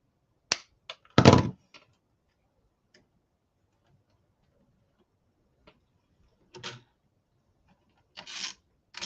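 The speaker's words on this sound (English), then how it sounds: "there's a little too much wire exposed here, so we're going to just cut it off" Snips cutting excess exposed copper wire at a junction box: a few sharp, close clicks and snaps spaced apart by silence, with a louder crunchy cut early on.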